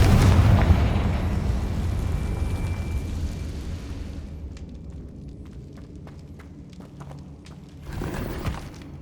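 Confringo spell explosion in Hogwarts Legacy bursts loudly at the start and rumbles away into a fading tail, followed by scattered faint clicks and a second swell of noise near the end.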